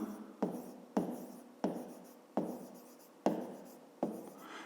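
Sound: writing down math notes

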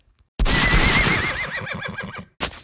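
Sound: horse neighing in Roblox Brookhaven video game

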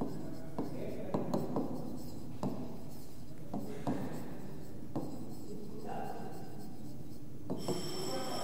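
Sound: writing on a board

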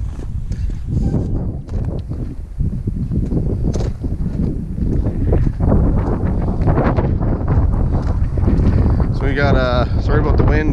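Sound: wind blowing into microphone

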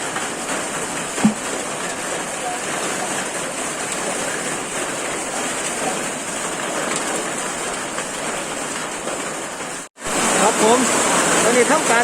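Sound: rain falling outdoors

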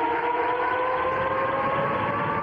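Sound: air raid siren in Belgorod

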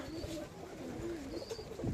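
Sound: pigeon cooing

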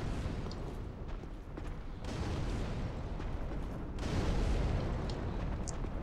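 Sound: bombs exploding in the video game Dark Souls 3

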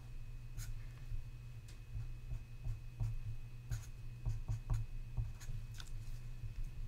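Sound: pen writing, drawing a molecule

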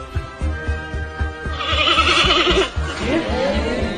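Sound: giant panda male mating call, sounds like sheep

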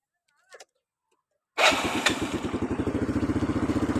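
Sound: motorcycle engine idling

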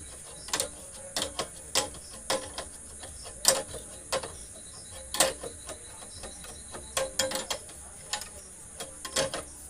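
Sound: tightening a nut on a diesel engine head

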